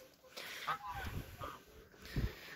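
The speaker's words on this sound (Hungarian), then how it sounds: "Liba, ott van az egyik ellenségem, a Liba!" Goose honking nearby in a few short, uneven calls, fairly faint, with scattered background noise between honks.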